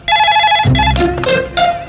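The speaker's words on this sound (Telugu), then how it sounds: "రింగ్ అవుతుందిరా" An electronic telephone ring sounds in short repeated bursts, loud and close, with a brief low thump partway through.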